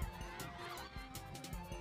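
Ducks honk and quack during a duck-catching contest, a fairly faint run of repeated calls with no talking.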